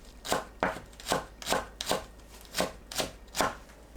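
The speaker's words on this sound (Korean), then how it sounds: "파를 작게 썰어주세요." Green onion being chopped into small pieces with a kitchen knife for a tangerine side dish: about eight steady, evenly spaced knife strokes, close and crisp, with no talking.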